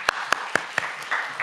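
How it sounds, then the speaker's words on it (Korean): Clapping at a church young adults' Sunday service in Seoul: four or five sharp, evenly spaced claps close by, followed by a brief murmur of voices. "박수."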